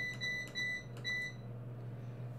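A food dehydrator's timer button being pressed, giving a short series of clear electronic beeps, about four in quick succession, over a low steady appliance hum, then the beeping stops.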